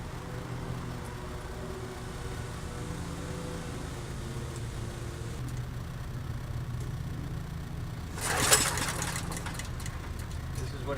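A small portable generator runs steadily without hydrogen gas fed in, a constant mid-pitched engine drone with a brief louder knock or clatter near the end, and a voice speaks faintly under it.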